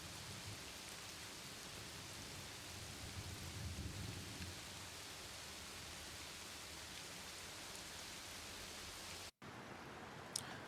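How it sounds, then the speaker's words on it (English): Rain and thunder sound effect: a constant hiss of steady rainfall with low rumbling underneath, faint overall, ending with a brief cut before the loop resumes. "Now let's listen to the rain and thunder sound effects."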